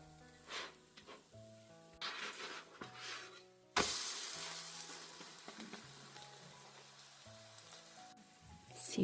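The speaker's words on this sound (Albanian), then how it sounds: "e rrotullojmë dhe e skuqim edhe nga ana tjetër, derisa të na merr një ngjyrë të mirë" Pita bread fries in a pan after being flipped to brown the other side. The hiss is soft and steady, with a louder burst of sizzle midway and faint kitchen clatter.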